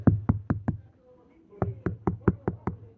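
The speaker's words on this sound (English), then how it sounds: "Let me just shut the door because it's coming through the door." A door is pushed shut, then a run of sharp knocks and thuds follows in two quick bursts, close and fairly loud in a quiet room.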